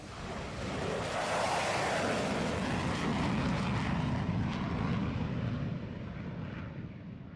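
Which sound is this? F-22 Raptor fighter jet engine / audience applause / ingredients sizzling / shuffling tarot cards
F-22 Raptor fighter jet engine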